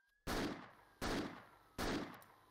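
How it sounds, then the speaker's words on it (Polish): Three loud, close gunshots fired in a Roblox roleplay game, evenly spaced with sharp attacks and short decaying tails, with no talking. "Dobra, rozstrzelam go, uwaga, oddaję strzał."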